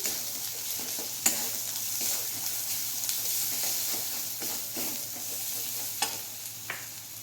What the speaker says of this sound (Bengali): এক চামচ জিরে গুঁড়ো দিয়ে দিলাম এবার সব কিছু আবার ভালো করে ভেজে নিচ্ছি